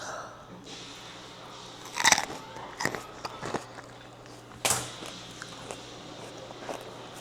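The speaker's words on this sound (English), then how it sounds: "Listen to this crunch. Sorry, if anyone don't like chewing sounds," Crunchy snack bitten and chewed close up, a few sharp crunching bites standing out over a quiet background with soft chewing between.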